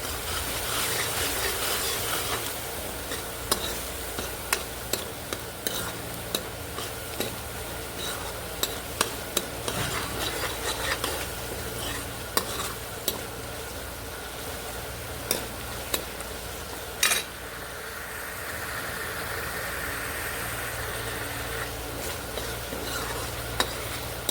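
Punjabi-style capsicum sabzi with turmeric cooks in a pan, a steady sizzle running under frequent spoon strokes and sharp clacks against the pan, close and fairly loud throughout.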